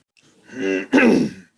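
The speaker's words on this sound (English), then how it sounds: "I'm just really sorry I'm coughing" A single close, voiced throat-clearing cough in two quick bursts, the second harsher, then quiet.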